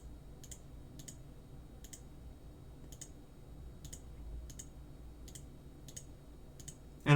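Values are typed into CNC software settings on a computer keyboard: nine or ten crisp, evenly spaced key clicks over a low background hum, close and fairly quiet, with no voice.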